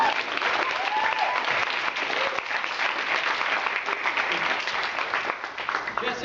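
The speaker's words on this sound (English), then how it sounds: "Give a big round of applause." Loud, sustained applause from an audience at an end-of-semester meeting, greeting the president with dense steady clapping that continues throughout.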